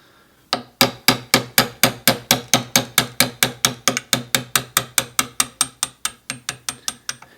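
A Fender guitar neck ringing under about twenty-five sharp, evenly spaced hammer taps as a fret is driven out sideways, each strike close and crisp, with the blows gradually softening toward the end.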